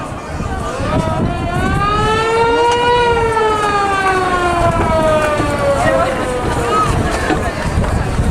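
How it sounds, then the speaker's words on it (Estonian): The Alfa, flagship of the Emajõgi river, sounds its siren: a loud, sustained wail that rises slowly and then falls, lasting the whole stretch over steady background noise. "kui te kuulete, et Emajõe lipulaeva Alfa annab sireeni, siis tuleb tulla"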